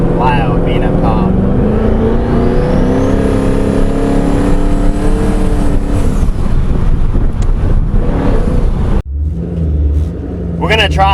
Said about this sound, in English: These turbos scream on this kit though.